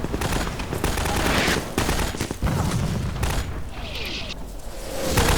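Rapid bursts of gunfire and explosions from a Garry's Mod war battle, loud and dense throughout with repeated shots and booms and no clear talk.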